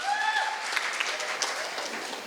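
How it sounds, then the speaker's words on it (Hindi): A crowd at a charity fashion show applauds loudly and continuously, and a fading whistle-like tone from the music sounds at the start. "जोरदार तालियां।"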